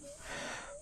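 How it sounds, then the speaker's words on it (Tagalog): Heavy, wheezing breaths from a mountain biker resting on a bike park trail, a short continuous rasping pant heard up close. "Hingal ako eh."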